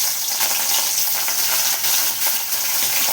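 Fish frying in hot oil in a kadhai gives a dense, steady sizzle and crackle, close and loud, with no voices.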